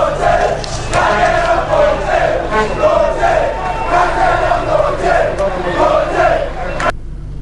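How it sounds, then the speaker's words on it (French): A delirious crowd of TP Mazembe football supporters chants and cheers outside the stadium at night, a dense, loud roar of many voices rising and falling in rhythmic waves. "c'est une foule en délire qui attendait les corbeaux au dehors de leur nid"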